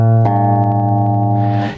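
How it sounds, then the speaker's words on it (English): Two guitar strings plucked together, one slightly out of tune against the other, ringing as a sustained chord with a slow wavering beat, loud and close with no talking. "what you're listening for is these kind of wah-wah sounds, and you'll hear it when it's flat, it's go wah wah wah"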